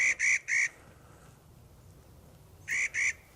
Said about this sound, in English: It's the call of a Clark's nutcracker.